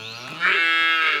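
A single close, loud moo from a cow or calf, rising and then holding steady for about a second.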